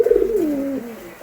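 Racing pigeons give a close, soft coo, a low wavering call that glides downward over about a second before trailing off, with a faint second note at the end and no talking.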